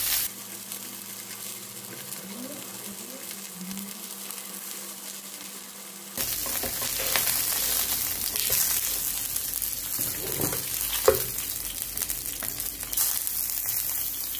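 Pork belly slices grilling in a pan for a delivery restaurant, sizzling steadily and crackling close up, the sizzle growing fuller after a quieter opening.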